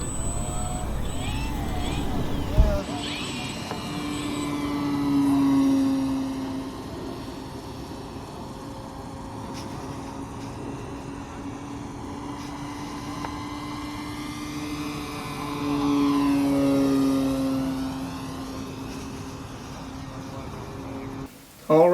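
An Arrows RC Husky 1800 mm model airplane flies overhead, its small electric motor droning steadily and swelling as it passes, while someone talks over the sound.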